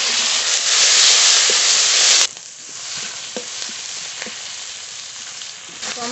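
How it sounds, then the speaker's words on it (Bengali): Chopped onion and tomato frying in a pan with bay leaf, dried red chili and whole cumin: a loud, hissing sizzle that drops suddenly to a quieter simmering fry, punctuated by the clicks of stirring. "তেজপাতা, শুকনো লঙ্কা, গোটা জিরে ফোড়ন, পেঁয়াজ কুচি আর টমেটো কুচি একসঙ্গে কষিয়ে নেব।"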